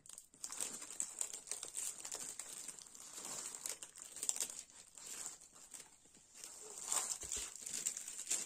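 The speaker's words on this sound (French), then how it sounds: "Si mon papier reste collé, on va avoir du mal à l'ouvrir." Paper wrapping on a diamond painting kit crinkles and rustles as it is unboxed, a quiet, irregular crackling that continues throughout, close by, with no voices.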